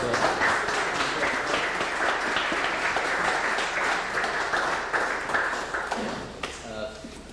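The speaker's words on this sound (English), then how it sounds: "Give Dr. Marshall a nice round of applause." An audience applauds after a talk with a long, steady round of clapping that softens slightly near the end as a voice begins speaking over the last moments.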